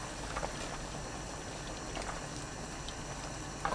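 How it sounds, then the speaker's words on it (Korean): Saury and egg soup with onion, green onion and chili bubbles in a pot, a soft, steady low boil with gentle patter, faint and close, and a brief clatter at the very end. "거품 걷으면서 1분 30초 더 끓입니다."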